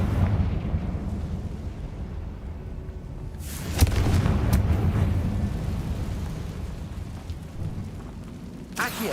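A Confringo blast spell explodes in Hogwarts Legacy, giving a sudden booming burst with a rumbling tail. It sits over a low, steady game ambience, and a second sharp hit follows near the end.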